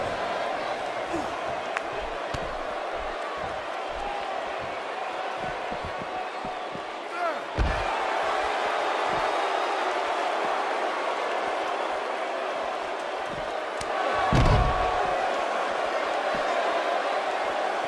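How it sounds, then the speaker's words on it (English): Arena crowd murmur from the WWE 2K18 wrestling game runs as a continuous, fairly loud roar throughout, with scattered thuds and a couple of louder impacts rising out of it, and a commentator talking over the top. "by the sound of this Milwaukee crowd,"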